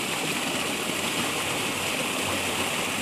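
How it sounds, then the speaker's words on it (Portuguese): Water gushing and running out through a crater in the breached wall of the Bezerro dam in Piauí, Brazil, a loud, steady roaring rush like a stream or small waterfall, continuous and close, no voices. "A água tá vindo lá do paredão e ela tá escorrendo já para fora"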